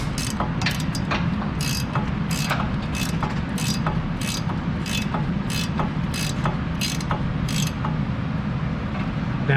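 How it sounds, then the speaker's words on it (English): Ratchet wrench turning an 18mm upper ball joint bolt on a 2005 Cadillac Escalade, rapid steady clicking of the pawl over a constant low background hum, close and continuous. "So we'll go ahead and get this ratcheted on down."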